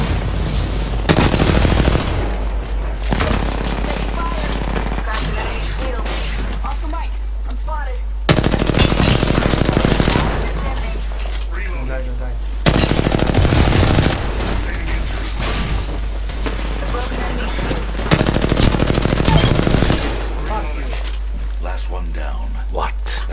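Rapid bursts of automatic gunfire in Apex Legends blast spiders, several loud rattling volleys separated by quieter gaps, with a player speaking over and between the shots.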